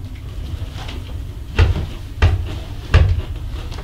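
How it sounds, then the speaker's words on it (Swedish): A door at the Apelkvistens Wärdshus inn shifts during a nighttime ghost hunt, giving three separate knocking thuds about half a second apart over a steady low room hum. "Nu går dörren."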